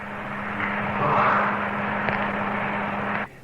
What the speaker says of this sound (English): The humming in the background is the fans of electric heaters warming the building.